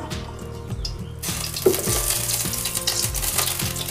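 Mustard oil goes into a kadai and starts a steady, crackling sizzle that comes in suddenly and holds, with a low rhythmic kitchen noise underneath and no talking.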